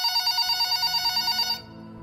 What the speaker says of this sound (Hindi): तभी उसका फोन बजा।